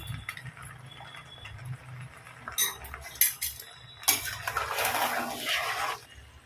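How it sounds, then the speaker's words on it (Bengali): A utensil slowly stirs food in a pot, clinking and scraping against the metal. The quiet scraping grows busier and louder toward the end, with no voices. "এইভাবে দিয়ে আস্তে আস্তে নাড়তে হবে।"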